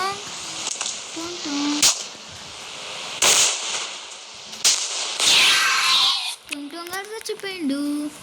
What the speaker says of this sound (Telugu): బాంబు తీసుకొని వేస్తాను.